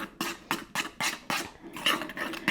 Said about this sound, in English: Then just go ahead and mix it all up